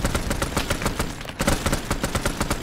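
Rapid bursts from a helicopter's turret guns in a video game, a dense, loud stream of shots with a brief pause midway before the firing resumes, with no talk over it.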